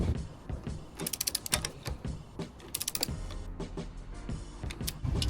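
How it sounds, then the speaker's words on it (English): A torque wrench set to 64 tightening the top nut on a Renault Clio 3 front shock, giving close bursts of rapid ratcheting clicks in two runs between quieter mechanical handling, with no one talking. "Just want to get the torque wrench on here set to 64. Just get this tightened up."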